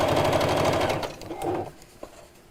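A sewing machine runs in a fast, steady stitching burst while sewing around a bag, then slows and stops, followed by a few faint clicks.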